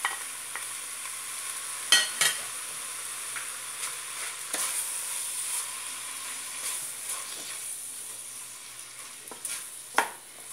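Chopped tomatoes are stirred and sautéed in a pan for a corn-cream chicken fricassee, giving a soft steady sizzle with occasional sharp scrapes and clinks of the utensil, close and moderately quiet, with no talking.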